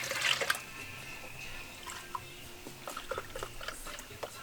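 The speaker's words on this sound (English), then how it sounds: "a cup of milk per 4 eggs, so I'm going to go about a cup and a half" Milk poured from a cup into a bowl of half a dozen eggs at a camp cook-up, giving a short trickling splash near the mic that tapers into scattered faint drips.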